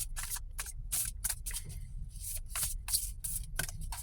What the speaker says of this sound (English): let's get a few more of these Guardian Angel Tarot cards